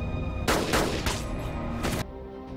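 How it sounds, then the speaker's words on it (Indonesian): A rapid burst of about five loud gunshots rings out in a movie scene, sharp cracks in quick succession over roughly one and a half seconds, followed by a quieter backdrop. "Saat itulah Weller melepaskan tembakan untuk menghabisi Levi."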